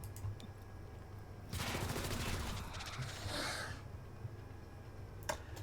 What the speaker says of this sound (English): I guess I'll just shoot at this Resonant